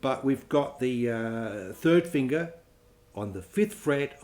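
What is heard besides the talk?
None of the usual background noises is heard.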